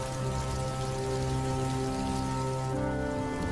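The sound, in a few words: rain falling on a winter night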